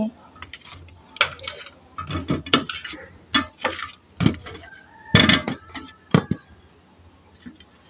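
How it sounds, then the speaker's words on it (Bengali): Pieces of katla fish are tossed with turmeric and salt in a bowl, making quick, close clinks and knocks of the pieces against the bowl in uneven bursts. "হলুদ আর লবণের সাথে মাছগুলোকে ভালোভাবে মিশিয়ে নিতে হবে"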